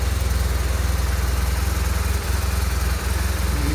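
A fuel-injected 2008 BMW R1200RT motorcycle engine idles nearby, a steady, even low throb with no throttle blips, heard on its own.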